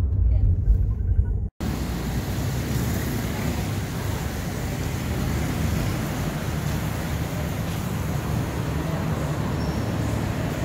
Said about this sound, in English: we are in a grab cab with this fine gentleman driving us